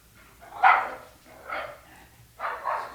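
A dog barks at a cat three times in short, separated bursts, the barks sharp and moderately close over a quiet background.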